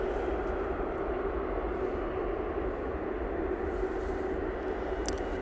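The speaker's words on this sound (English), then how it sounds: "Next out should be this TUI 737." A TUI Boeing 737 jet taxis out at Manchester Airport, its engines a steady, even, mid-distance roar with a faint whine riding on top throughout.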